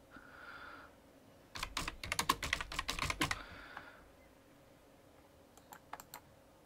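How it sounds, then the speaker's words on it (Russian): Computer keyboard keys tap in a quick burst of clustered keystrokes while typing in a command line, close and fairly quiet, then a few scattered presses after a pause, with no talking. "Это пишу в командной строке."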